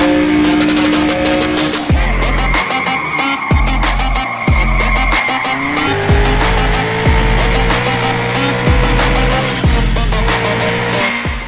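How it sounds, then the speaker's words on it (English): An engine revs loudly with repeated gear-shift drops and a tire squeal as a car drives and drifts in an open-world racing game, with continuous dense sound throughout and no voices. "This is a racing and drifting game with highly realistic vehicle simulation, supporting real-time multiplayer and single-player modes"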